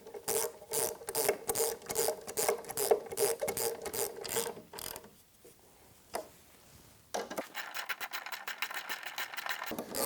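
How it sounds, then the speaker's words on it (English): A hand ratchet and socket tighten a bolt while assembling a freestanding ladder, giving rapid, close clicking bursts that pause briefly midway, then resume in a steady string of clicks. "I'd rather just use a ratchet. If you've got a ratchet and a socket, it's really the best bet here"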